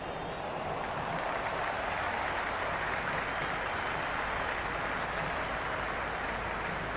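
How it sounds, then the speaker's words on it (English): Crowd at a T20 World Cup cricket match between Australia and Ireland, a steady dense roar of cheering and applause that holds at constant loudness throughout, with no distinct voices rising above it. "It's evident and ever so audible that the crowd is at near bursting point at today's play"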